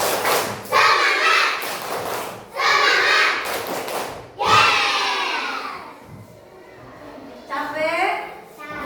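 A classroom of children doing a rhythmic spirit-clap chant with their teacher, loud shouted group chanting in bursts with thumping claps between them and a brief lull before the last burst.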